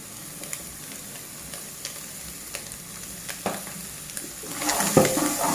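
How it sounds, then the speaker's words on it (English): Green peppers go into browned onions frying in a pan for a Kenyan wet fry tripe dish, giving a constant sizzle broken by light stirring clinks that grow busier and louder toward the end. "So once the onions have turned brown, I'm now going to add the green peppers."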